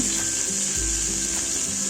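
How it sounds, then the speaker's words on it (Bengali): Pieces of pointed gourd (potol) all fry together in hot oil in a pan, giving a steady, close sizzle with a constant bright hiss and no talking. "আমি সব পটলগুলোই একবারে ভেজে নিচ্ছি"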